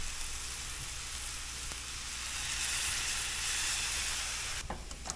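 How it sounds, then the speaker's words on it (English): A hot pan sizzles steadily and loudly as fish sauce and white wine are added to deglaze it while making a fish sandwich, a continuous bright hiss that shifts slightly near the end. "I'm going to deglaze with a little bit of fish sauce."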